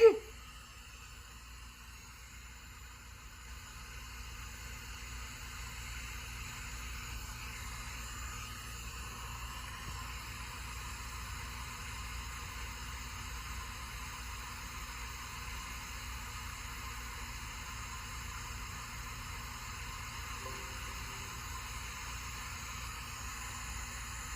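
Steady TV static, a continuous broadband hiss with a faint buzzing hum underneath, holding at an even level for the whole stretch after a brief louder burst at the start.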